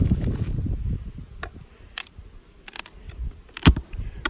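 Honey bees hum around a lakeside hive in late September, a faint intermittent buzzing with brief louder passes as single bees fly close, against quiet outdoor background.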